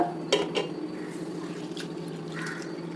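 Mixed lentils being rinsed in water, with light clinks of a metal vessel and small splashes and drips, close and fairly quiet, no voices.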